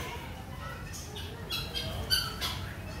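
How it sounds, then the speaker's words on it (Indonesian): Geese honking at a child-friendly hotel's animal area in Bandung, a series of loud squawking calls scattered across the clip with faint voices in the background. "Angsa kak."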